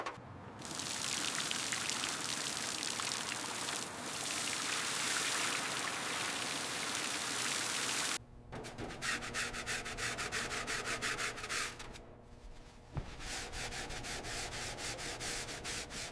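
Solvent foams and hisses over the grimy latch of a 1937 Chrysler Airflow coupe, a steady close fizzing rush that cuts out abruptly, then returns as a softer crackling fizz with brief dropouts.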